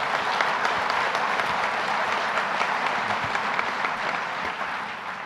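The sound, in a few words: audience applause for Lieutenant Governor Kathy Hochul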